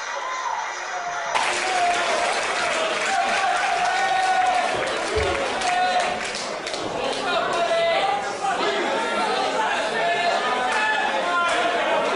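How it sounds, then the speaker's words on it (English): A small crowd of about a hundred people at an independent wrestling show in Kitsilano, Vancouver, cheers and chatters. The noise stays continuous and lively throughout, with voices mixed into the crowd sound. "Crowd goes wild."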